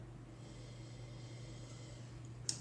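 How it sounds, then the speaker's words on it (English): A faint, quiet sniff from close up as someone noses a glass of Walla Walla cabernet wine, with one short sharp intake near the end over a soft steady hum. "Let's give it a sniff."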